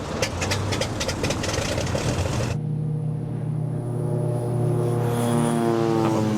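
Propeller airplane engine droning steadily, first a rough buzzing throb that shifts abruptly to a smoother, lower humming tone with a rising whine, loud and close, with no voices.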